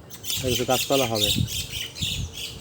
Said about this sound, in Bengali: আমার আশপাশে শুনতে পাচ্ছ পাখির ডাক